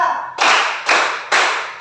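Three sharp, loud hand claps in slow succession, each ringing briefly in a reverberant room.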